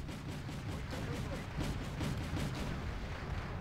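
Old 20 mm cannon fire in the Wargame: European Escalation strategy game, a steady rapid series of muffled, low booming shots, faint and somewhat distant under battle noise.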